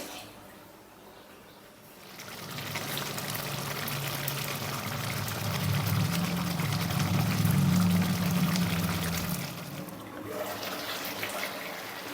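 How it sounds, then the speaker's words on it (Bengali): A cup of water pours steadily into a pan of cooking chicken for a rezala, a close, loud gush that swells and then tapers off, with no talk. "এক কাপের মতো জল আমি অ্যাড করে দিলাম"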